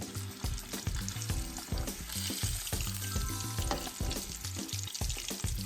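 Breaded catfish fillets fry in hot oil with a steady, dense sizzle and crackle, punctuated by recurring bubbling bursts, loud and close throughout with no voices.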